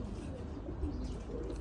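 Pigeons coo softly in a rooftop loft, low throaty calls rolling close by over a dull background murmur.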